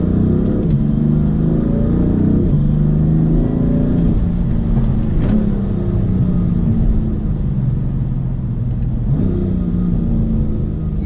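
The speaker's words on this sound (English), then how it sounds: "Using the paddle shift, there's no delay clicking through the gears. This DCT transmission is amazing." A BMW M3 F80 with a DCT transmission revs hard as it is paddle-shifted through gears, its loud engine drone climbing in repeated rising sweeps broken by quick shift drops, close and steady throughout.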